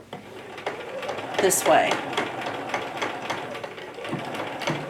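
A sewing machine stitches an apron in short mechanical bursts with clicking and whirring, close and moderately loud, while someone speaks briefly over it.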